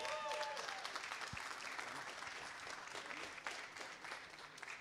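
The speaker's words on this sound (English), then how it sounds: "a big applause for Latin American co-founders." Faint, distant audience applause at a tech camp event, a steady patter of many hands clapping for several seconds with a brief voice near the start.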